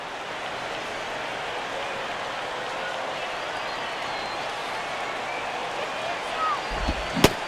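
Crowd noise from a baseball stadium in MLB 11: The Show plays as a steady, broad roar that hangs on every pitch, with a few sharper knocks near the end.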